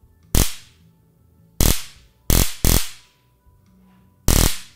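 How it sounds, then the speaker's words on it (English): Zap Hike'N Strike stun walking stick firing its electric zap: five loud, sharp crackling bursts, close up, irregularly spaced with a quick double burst in the middle, each ending in a brief decay with quiet between. "I will show a sound test of this thing zapping in progress right about now"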